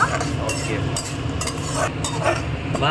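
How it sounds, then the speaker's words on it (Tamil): Roasted peanuts fry in hot oil in a pan, giving a steady dense sizzle with occasional stirring scrapes, close and continuous throughout. "வறுத்த கடலைங்கிறதுனால இப்போ போட்டிருக்கேன் நல்லா வறுபடட்டும்"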